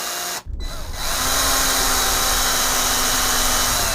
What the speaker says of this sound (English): the drill is going to do most of the work for you